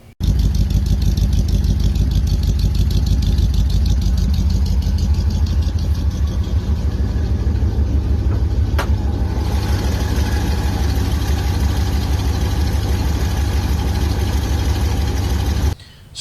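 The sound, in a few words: Ford Cleveland V8 engine idling in 1970 Mustang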